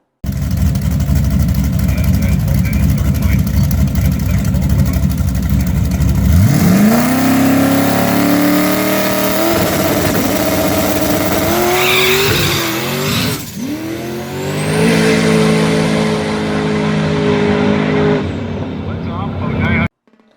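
A true street truck makes a full-power no-prep drag racing pass with its tires spinning. A loud, close engine drones, then revs climb hard through rising sweeps, dip as the throttle lifts, and surge back to full roar.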